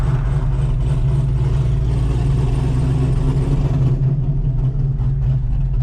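An 850hp Chevrolet Camaro ZL1 engine roars loud and steady from inside the car while accelerating through gears, its deep continuous drone dropping slightly in brightness near the end as the shift happens.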